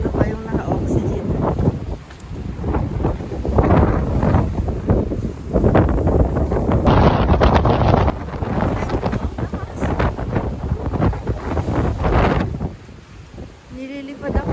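Strong, cold January storm wind in the UK gusting hard against the microphone, a loud, continuous roar with surging gusts, while a person talks through it throughout.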